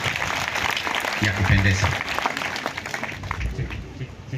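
An audience claps at a gathering, a steady wash of applause that carries on while a voice speaks over it.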